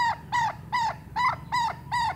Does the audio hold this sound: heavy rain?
no